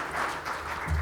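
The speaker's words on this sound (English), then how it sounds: "Let's give a round of applause to our panelists." An audience at a conference session applauding its panelists, a short burst of dense, steady clapping from a crowd.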